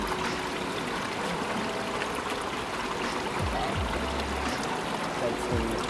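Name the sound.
water trickling out of a cut tree branch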